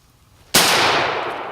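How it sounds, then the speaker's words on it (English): A single sharp gunshot cracks out during a squirrel hunt in the woods, a loud, close blast that decays over a second with no voices. "You shot over him."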